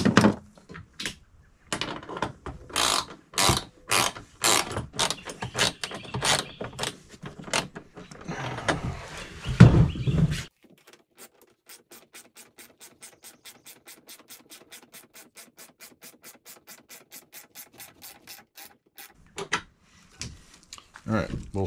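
Rapid, steady ratchet clicks tighten nuts on a Gorilla 7 cu ft garden cart, preceded by louder clanks and handling knocks of metal parts before the even clicking run settles in, close and clear.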